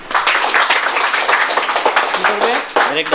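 An audience at a lecture-style discussion bursts into dense, steady clapping that carries through the whole moment, with a voice starting to talk over it near the end.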